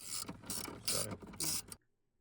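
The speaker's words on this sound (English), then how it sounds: "we use the wrench to loosen it to where the socket could grab onto it" A wrench loosening the post on a Mercedes-Benz battery terminal gives three short, close ratcheting, scraping metal bursts that stop abruptly, leaving near silence.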